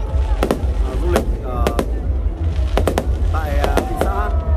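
Fireworks display at Cửa Lò, Nghệ An province, celebrating a tourism day, with repeated sharp bangs and crackling bursts over a constant crowd murmur and distant talk.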